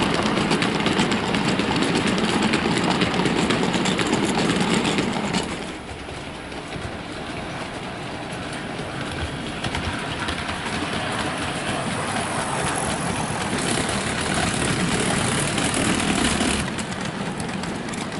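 A Hornby Class 60 model locomotive in Mainline livery runs steadily while pulling light wagons, giving a continuous close motor whir and rolling rumble with a slight drop in level partway through, and no talking.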